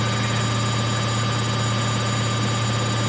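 A Samsung front-load fully automatic washing machine spins at 1200 RPM, producing a loud, steady motor hum with a strong low drone and constant high whine, unvarying for the whole stretch with no voices.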